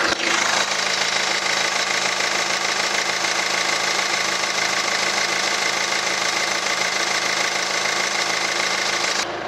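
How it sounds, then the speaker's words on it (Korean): Hyundai Tucson ix diesel with an e-VGT engine idling with the hood open, a steady close diesel clatter and hum that holds evenly for the whole stretch with no talking. "자, 이렇게 엔진룸 개방해봤고 엔진 소리까지도 한번 들어볼게요."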